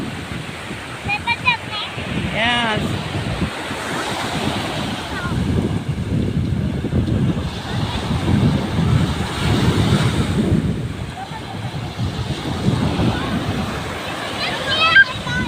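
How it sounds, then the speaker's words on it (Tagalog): Steady roar of surf and wind buffeting the microphone, with waves surging in repeated swells onto the beach at Tondaligan Beach, Dagupan, Pangasinan, and voices speaking over it. "Ayan na yung alon, no? Ayun ang alon."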